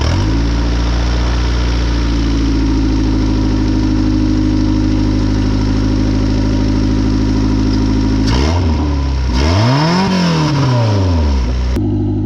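An old project car's engine runs at a steady rumbling idle, then revs up and down in a couple of loud swells before cutting off, close and with no one talking.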